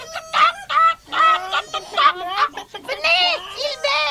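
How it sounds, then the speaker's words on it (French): Strident cackling from a flock of cartoon hens near a farmhouse garden plot, heard as loud, shrill, rising-and-falling cries in quick repeated bursts that overlap one another. "un caquetage strident se fit entendre du côté de la maison"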